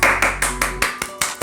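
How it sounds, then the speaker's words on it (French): One person claps sharply and evenly, about eight close claps at a quick steady rhythm, celebrating a Real Madrid 1-0 win over Liverpool. "Applaudis, je t'ai dit"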